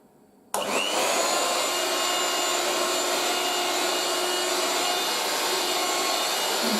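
A 1980s Moulinex Aspirateur No1 handheld vacuum cleaner with a scrubbing brush switches on abruptly and runs with a steady, loud, close whirring motor hum that holds constant to the end.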